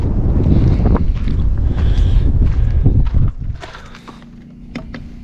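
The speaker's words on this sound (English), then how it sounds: "It's a little windy" Wind buffets the microphone in a loud, steady low rumble that eases off toward the end, leaving quieter outdoor air with faint ticks.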